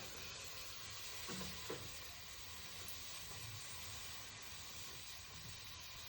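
Green onions cooking in a pan for stuffed peppers, a soft continuous sizzle and hiss with a few faint stirring scrapes, quiet and steady with no talking.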